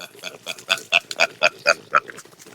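Small pig squealing after touching an electric poultry-netting fence, a rapid series of loud, harsh squeals and grunts in quick bursts, close by.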